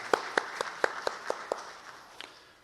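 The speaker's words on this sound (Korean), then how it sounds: "우리 하나님께 영광의 박수 올려드리십시다." A church congregation gives a few slow, distinct claps in unison during a Sunday service, sharp evenly spaced strikes in a reverberant hall that thin out and fade toward the end.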